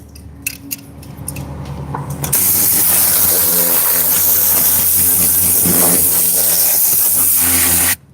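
Compressed air blasts over the door rails of a Toyota Highlander during detailing, a loud continuous hiss lasting several seconds after a few short clicks and faint rattles.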